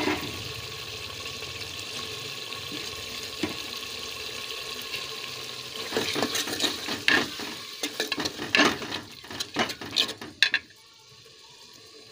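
Soaked dal lentils roast in a pan with a continuous low sizzle, then a burst of close, rapid stirring and scraping strokes in the second half before fading to quieter sizzling; no one speaks.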